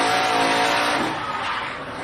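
A NASCAR race truck at Indianapolis Raceway Park roars at full throttle with a sustained, loud engine scream and tire noise as it loses grip and spins, easing slightly toward the end.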